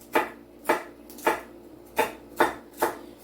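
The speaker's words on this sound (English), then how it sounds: "we are chopping up our celery" A knife chops celery on a cutting board in a home kitchen: six crisp, evenly spaced thuds, close and fairly loud, with nothing else heard between strikes.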